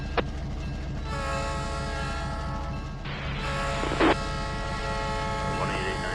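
A locomotive in the Trainz 19 rail simulator at a Progress Rail industrial park rumbles steadily, with a long sustained horn blast over the engine drone and a brief sharp squeal partway through.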